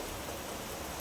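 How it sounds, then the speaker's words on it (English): Steady rain falls heavily outdoors on a terrible wet day in Japan, a dense, even hiss with no talk over it. "It's been raining like this for about 2 days"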